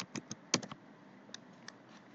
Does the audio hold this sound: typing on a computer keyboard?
yes